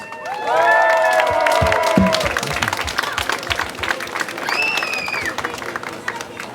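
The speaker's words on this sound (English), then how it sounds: "Big applause for all the actors." An audience at an outdoor protest event claps and cheers for actors, a dense burst of applause that swells early and then tapers, with shouts and voices mixed in.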